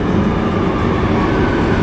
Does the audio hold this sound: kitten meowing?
no